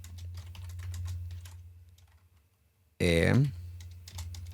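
Computer keyboard typing during a programming lesson, with light clicking running beneath someone speaking Portuguese, then a short loud vocal burst near the end before more keys.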